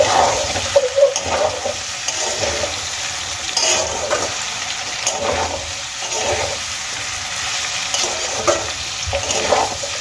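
Vegetables frying with poppy seed paste are stirred in a pan, with a repeating rhythm of scraping strokes over a steady sizzle. No voices are heard.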